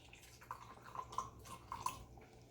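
Olive oil poured into a glass cup holding minced garlic, a faint close gurgling trickle with a few soft drip-like plops, quiet and without talking.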